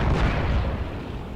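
A KV-1 tank's cannon fires in a video game on the Windstorm map: one loud, deep, close boom with a rumbling tail that fades over about a second.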